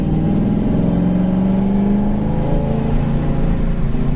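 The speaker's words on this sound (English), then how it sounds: "Motor sounds fantastic." A 1967 Mustang engine runs steadily while driving, giving a loud, continuous mid-pitched drone with a low rumble that rises slightly in pitch at one point, then settles, with no talk over it.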